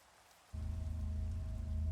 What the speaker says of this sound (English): the rain will hopefully go away.